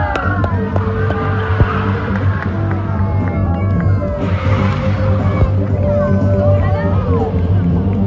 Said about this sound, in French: Les voitures démarrent, portière contre portière, pare-choc contre pare-choc, maximum de la vitesse.